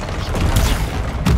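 In the Hogwarts Legacy video game, an Expelliarmus spell goes off amid fast combat: a loud, dense rattle of impacts and low booms, ending in a sharp crack.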